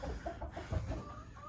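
Chickens clucking in a farmyard around feeding time, a run of short, close clucks and murmurs repeating at a fairly steady rate with steady background noise underneath.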